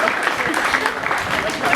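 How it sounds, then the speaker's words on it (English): A crowd claps at a 4-H and FFA meat goat show at the Butler County Fair, a brief round of applause in a show arena with some voices mixed in. "nice round of applause."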